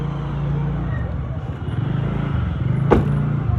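Inside a car with a family setting off on a trip from Delhi to Banaras, a steady low engine and road rumble fills the cabin, with faint background voices and a brief sharp knock near the end.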